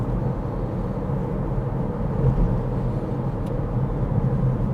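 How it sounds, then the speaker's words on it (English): Car engine driving along a narrow fast road and accelerating to overtake, shifting up to fourth gear, with a steady close low rumble of engine and road noise throughout. "Looks safe to overtake, check mirrors, accelerate, give them space, up to 4th"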